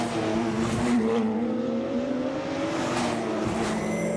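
Porsche GT3 Cup race cars lap Spa-Francorchamps through La Source, with a loud, sustained engine note rising and falling in pitch as the cars brake and accelerate out of the hairpin, close and unbroken.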